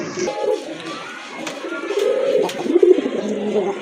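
Rajshahi Giribaz pigeons cooing close by in soft, repeated low throaty calls, rising a little toward the end, with faint background noise.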